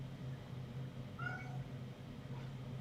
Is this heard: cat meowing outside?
yes